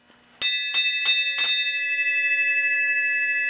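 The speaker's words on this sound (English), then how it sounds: "come out here and ring the bell" A bell on a motorcycle workshop project is rung four times in quick succession, each strike loud and close with a bright metallic ring that lingers and decays slowly afterward.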